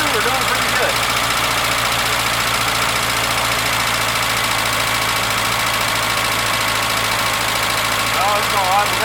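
A 1981 Datsun 210 engine with a fuel pump issue idles nearby, a loud steady rumbling drone with a faint rhythmic knock throughout.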